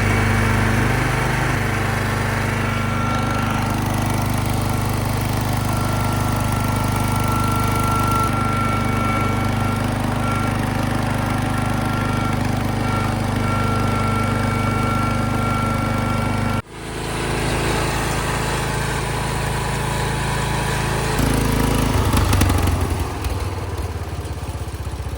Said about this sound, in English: So I'll let you guys check out me moving dirt with something that shouldn't or wasn't made to do it.